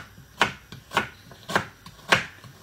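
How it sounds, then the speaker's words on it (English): Knife chopping onions on a cutting board, four sharp, evenly spaced cuts roughly half a second apart, close and moderately loud against a quiet kitchen background. "I'm going to cut my onions at the same time turning on the hob"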